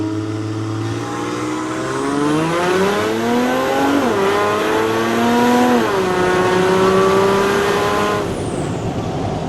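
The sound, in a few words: Land Rover with OM606 diesel engine accelerating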